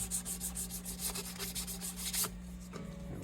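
Sandpaper of 1000 grit rubs rhythmically back and forth on a wooden guitar headstock, quick close scratchy strokes about every quarter second, stopping near the end over a faint steady hum.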